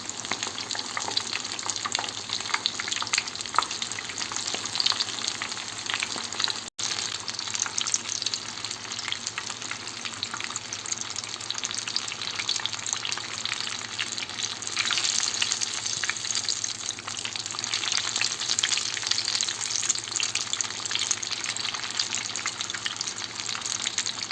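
Food fries steadily in hot oil, a dense, continuous crackling sizzle, close and fairly loud, with one very brief dropout and no speech.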